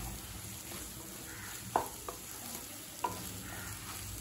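An egg frying in a pan for egg fried rice gives a soft, steady sizzle with stirring. Two or three light clinks of a utensil stand out over the low hiss.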